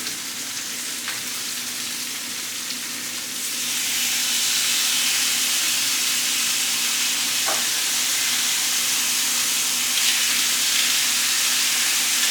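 Meat fries in a pan with Worcestershire sauce, a constant sizzling hiss that swells louder partway through and stays strong, with a faint low hum and an occasional tick.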